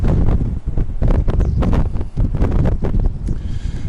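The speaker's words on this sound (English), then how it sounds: "and a bit windy." Gusty outdoor wind buffets the microphone in loud, rumbling bursts, with some rustling, during work on a real Christmas wreath.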